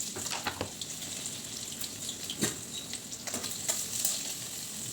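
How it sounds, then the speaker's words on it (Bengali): Chopped onions hit hot oil already holding bay leaf, cardamom, cinnamon, black peppercorns, green chilies and cloves for mutton biryani. The result is a steady bright sizzle with occasional spatters and stirring scrapes, and no voices. "এরপর দিয়ে দিচ্ছি কেটে রাখা পেঁয়াজ"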